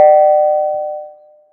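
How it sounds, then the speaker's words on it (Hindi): A doorbell gives a single bright ding that rings out and slowly decays, clear and close, with nothing else around it. "तभी दरवाजे की घंटी बजी"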